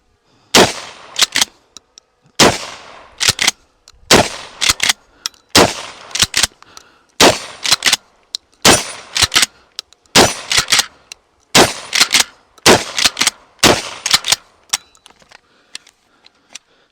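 A Mossberg 590 RM magazine-fed pump-action shotgun fired outdoors, with about ten loud, sharp blasts at steady intervals of roughly one and a half seconds, each blast trailed by a short metallic clatter.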